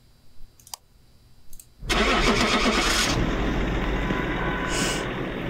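Car engine starting in the horror video game Phasmophobia: a few faint clicks, then a loud crank that catches into a steady running engine, close and continuous to the end.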